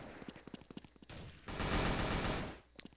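Gunfire in the shooter game Blood Strike: a run of about eight sharp single shots, then a dense, loud sustained burst of automatic fire lasting over a second, ending with one more isolated shot.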